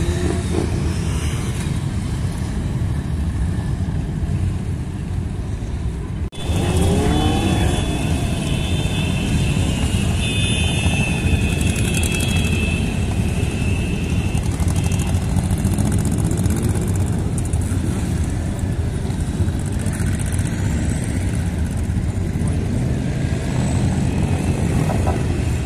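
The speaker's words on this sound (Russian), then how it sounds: "ну мотоциклистов Игорь даже заснял" Motorcycles riding past on a city street, a loud continuous engine roar with passing swells and shifting pitch, close by with no talking.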